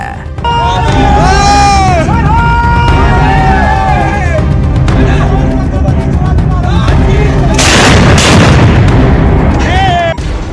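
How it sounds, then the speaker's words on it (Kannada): Army gunfire on a Pakistani army camp, with loud booming bursts and whistling sweeps that peak near the end. A news narrator talks over it. "ಪಾಕಿಸ್ತಾನಕ್ಕೆ ದಿಟ್ಟ ಉತ್ತರ ನೀಡಿದ ಭಾರತೀಯ ಸೇನೆ ಪಾಕ್ ಸೇನಾ ಶಿಬಿರದ ಮೇಲೆ ಗುಂಡಿನ ದಾಳಿ ನಡೆಸಿದೆ"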